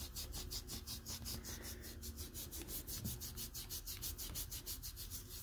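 An exfoliating scrub is rubbed on skin in a fast, even back-and-forth rhythm, a soft gritty scratching heard close up and alone.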